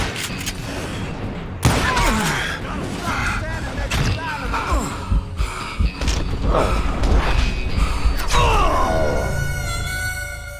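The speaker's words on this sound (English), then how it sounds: "Who's shooting at us? We're under fire!" Gunfire in Call of Juarez Gunslinger, a Wild West shooter: sharp single shots crack out at intervals over a busy game mix while characters talk and shout across it.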